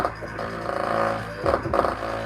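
A small car audio speaker overdriven on a test table, its music smeared into raspy, farting distortion with sputtering low-end bursts near the end.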